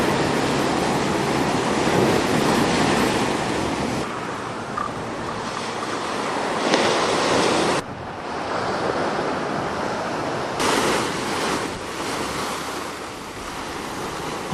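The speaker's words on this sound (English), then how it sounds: "On some days, the surf can reach 30 or 40 feet high if the conditions are right." Continuous roar of ocean surf breaking on a Hawaii beach, loud and steady with wind buffeting the microphone and brief dips where the sound shifts.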